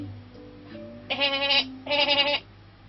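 Two loud bleats, each about half a second with strong harmonic layers, sound one after another near the listener, goat or sheep-like, alone with no talking.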